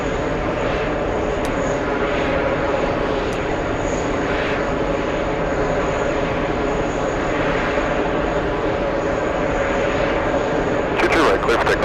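A Boeing 767 takes off at JFK airport, giving a steady, powerful jet engine roar that lasts throughout, with a voice talking over it.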